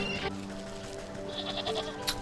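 Sheep bleating in the video game Wytchwood, a couple of short wavering calls over a soft musical background, fairly close and moderately loud, with no talking.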